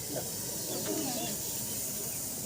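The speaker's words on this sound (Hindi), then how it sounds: "और इस सांप की फुफकार आप सुन सकते हैं" A Russell's viper, rescued from a bathroom, hisses in a steady breathy rush, fairly close and continuous, with faint background voices and handling noise.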